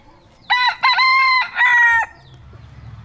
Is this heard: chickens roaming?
yes